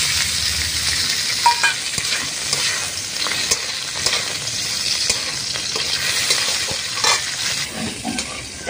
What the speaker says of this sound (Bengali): এইখানে আমার চিকেনটা ভালোভাবে ভাজা হয়ে গেছে